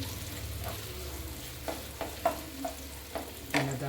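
Banana halwa is stirred in a pan, a spoon scraping and pushing the thick mixture in irregular strokes while it sizzles softly underneath, close and steady.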